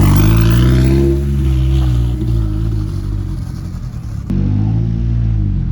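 A modified rear-wheel-drive Honda car engine with 1000cc injectors runs loud and close, a deep droning rumble with harmonic tone that shifts in pitch, then cuts abruptly to a lower idle-like hum near the end.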